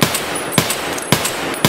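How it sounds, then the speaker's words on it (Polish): Gunfire in the Escape from Tarkov video game: three loud single shots roughly half a second apart, each a sharp broadband crack that rings out over steady background noise. "Tam jest strzał."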